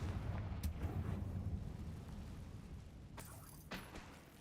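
Confringo fire spell explosions in Hogwarts Legacy, with a low rumbling burst and crackle early on, then two sharp bright blasts later, fairly faint overall.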